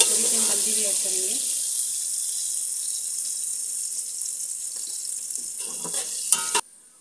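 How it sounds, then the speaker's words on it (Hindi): Chopped onions fry with salt in a pan, giving a steady, close, hissing sizzle that slowly fades. Someone talks faintly at the start, and a few clatters come near the end. "इसको ब्राउन कलर का भूनना है तो जल्दी से ब्राउन कलर का भून जाएगा नमक से"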